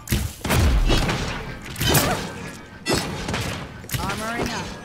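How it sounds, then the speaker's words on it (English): Gunfire in the video game Realm Royale Reforged comes as several heavy bursts of shots and thuds, spaced about a second apart. A player talks over and between the shots. "I'm getting shot from behind now."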